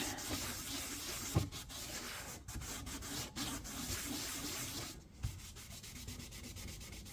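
Scotch-Brite pad scrubs an antique one-gallon kerosene can, producing a continuous, fairly quiet abrasive rubbing with irregular strokes and a couple of small knocks, no talking.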